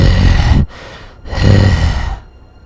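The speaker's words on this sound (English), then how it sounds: "that guy's heavy breathing." Heavy, raspy breathing from an enemy inmate in Batman Arkham Asylum, two loud drawn-out breaths separated by a short pause, close and filling the mix.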